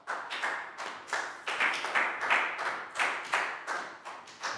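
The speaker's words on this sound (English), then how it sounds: "Big round of applause for Chew" A classroom of young pupils claps for a classmate: steady, rhythmic clapping of several hands together at roughly three claps per second, close and fairly loud, with no talking.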